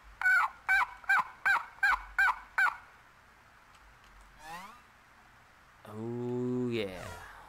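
Turkey gobble calls in the hunting game Dread X Collection The Hunt: seven sharp rhythmic gobbles in quick succession, loud and close, followed by a warbling sweep and a low drawn-out bird cry.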